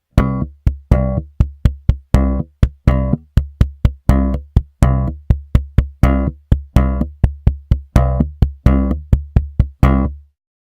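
A SlapStick N-100 electric percussion instrument, its band lightly muted by the fingers, is struck in a repeating pattern of sharp, punchy hits with short decays, loud and close, with no talking.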